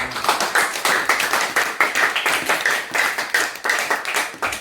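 Church congregation clapping together in rhythm, a dense run of sharp hand claps with a steady, lively beat, close and continuous throughout.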